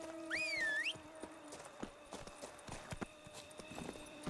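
Roach the horse in the video game The Witcher 3 clip-clops along in a steady rhythm of soft hoof strikes, opening with a short whinny over a faint ambient background.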